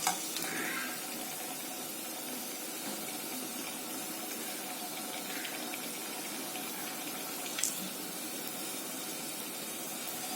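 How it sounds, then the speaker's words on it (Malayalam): Potato and semolina snacks frying in hot oil, a steady soft sizzle running throughout at low level, with a couple of brief clinks from a utensil. "ഇതുപോലെ നമുക്ക് എല്ലാം ഫ്രൈ ചെയ്തെടുക്കാം."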